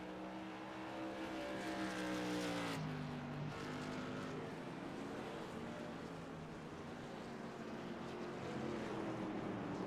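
Race trucks roar around the track at New Hampshire Motor Speedway, engines rising in pitch as one passes close, then fading into a steady distant drone of several trucks running together.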